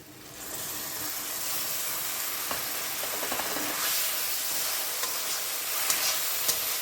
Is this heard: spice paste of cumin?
yes